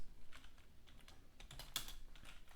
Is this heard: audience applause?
no